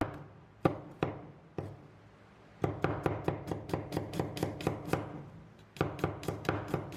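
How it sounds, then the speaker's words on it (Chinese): Kitchen knife slicing garlic cloves on a chopping board: sharp, close knocks, a few spaced strikes at first, then a quick, steady run of cuts, a brief pause, and another rapid burst. "准备几粒蒜头切片"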